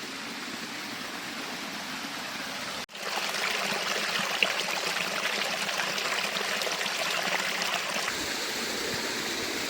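A small mountain waterfall on a trail to colored lakes pours steadily as a rushing, hissing stream, loud and close, after a brief muffled bump at the start.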